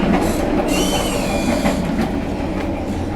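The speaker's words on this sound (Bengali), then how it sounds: "বেশি খুব একটা স্পিডে যায় না ট্রেনটা" Passenger train rolling along rails in Vietnam, a steady, loud rumble of wheels with faint rhythmic clatter and a brief high squeal, heard close from on board with no talking.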